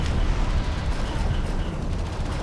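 Artillery fire in the real-time strategy game Homeworld: Deserts of Kharak, a dense continuous roar of rumbling blasts and booms layered over each other, loud and unbroken throughout.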